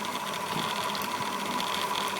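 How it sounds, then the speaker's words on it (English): A small PWM-controlled electric motor in a solar supercapacitor charger setup runs steadily with a constant whirring hum, close and even throughout with no speech. "as you can see, the motor is on and the PWM will be increased"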